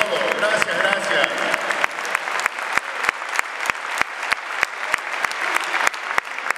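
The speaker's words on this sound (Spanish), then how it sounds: "este es el aplauso. Fuerte, fuerte para la Cera." Audience at a tribute event applauds warmly, broad crowd clapping with sharper individual claps standing out, continuing steadily and thinning slightly toward the end.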